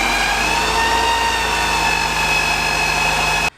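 Mercedes 190E EVO 2 build with a swapped engine and a small oil leak, idling steadily with a humming, whining drone held at constant pitch before cutting off abruptly.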